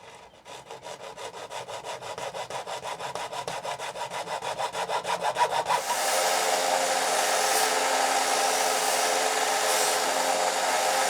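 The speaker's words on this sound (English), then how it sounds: "I might just try a hacksaw" A hacksaw cuts through plastic drain pipe with steady, rhythmic back-and-forth strokes that quicken and grow louder, then give way to a continuous rougher grinding rasp near the end.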